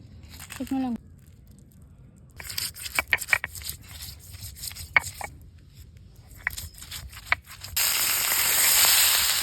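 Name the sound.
grinding coriander spice paste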